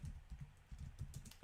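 A short burst of quick keystrokes on a computer keyboard, typing a search term in an uneven rapid rhythm, close and soft with no voice.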